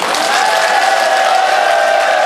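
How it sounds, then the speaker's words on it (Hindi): Audience applause welcoming a retired chief engineer onto the stage at a public interaction program, a steady dense wash of clapping held at even loudness throughout. "आप सभी के जोरदार तालियों के साथ मैं मंच पे आमंत्रित करना चाह रहा हूं"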